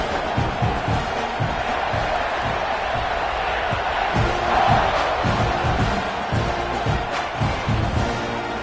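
A large college football stadium crowd at kickoff, Florida State against Texas A&M, a dense, continuous roar of distant cheering and shouting with a swell in the middle, heard steadily without a clear single voice.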